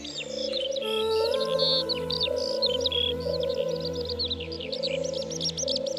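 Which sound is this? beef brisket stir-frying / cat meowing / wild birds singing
wild birds singing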